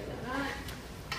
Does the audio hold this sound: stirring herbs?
yes